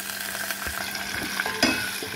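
Mustard seeds and black gram crackle and sizzle in hot oil in a pan for a tempering, a soft continuous frying hiss with a few small pops and stirring sounds, no voices.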